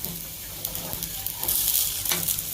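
Spicy sorghum millet paniyaram fries in a pan as the pieces are turned, giving a steady close sizzle that swells midway, with a few light scraping clicks and no talk.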